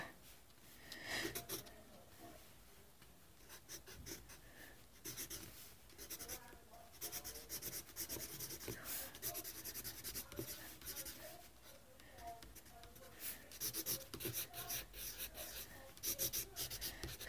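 Pen or marker strokes scratching out words on a Sans drawing, a busy run of close, rapid scribbling rubs with short pauses between letters.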